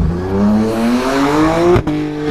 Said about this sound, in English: That was smoking his tires completely.